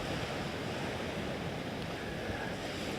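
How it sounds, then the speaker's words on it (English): Constant ocean surf at a seaside wedding, a broad, even wash of breaking waves and wind noise, moderately quiet, with no voices over it. "JP, Julie, today we meet by the sea"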